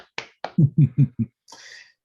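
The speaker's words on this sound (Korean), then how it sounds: "축구 박수" A small group does football-style rhythmic clapping at a Korean amateur football club meeting: two quick sharp claps, then four heavier evenly spaced claps, followed by a brief burst of scattered noise.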